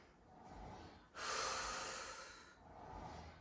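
Long, steady breaths during a Pilates reformer exercise, a soft airy exhale swelling in the middle and fading, with quieter breathing before and after, close and alone.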